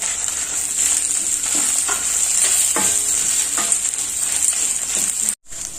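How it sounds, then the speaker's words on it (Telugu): Dry red chillies sizzle and crackle steadily in hot oil for a ginger chutney tempering, with intermittent stirring scrapes throughout, close and loud, before a brief cutoff near the end. "ఇప్పుడు మనం ఎండుమిర్చి వేసుకుందాం."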